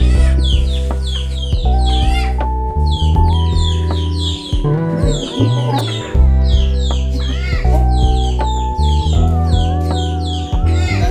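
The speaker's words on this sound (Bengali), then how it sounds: "এই সে মুরগির মা, বাচ্চাগুলোর মা যে এনে কিভাবে এত কান্নাকাটি করে।" Mother hen clucking and crying loudly and persistently near her chicks, in repeated agitated bursts alongside other chickens and ducks calling throughout, with no talk.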